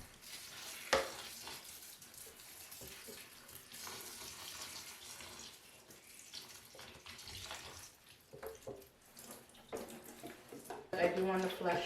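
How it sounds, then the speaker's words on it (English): Water is poured into the soil of a potted plant to flush out hydrogen peroxide, giving uneven splashing and trickling bursts. A person talks over it close to the microphone. "just pour the rest into the soil and just to flush out the hydrogen peroxide."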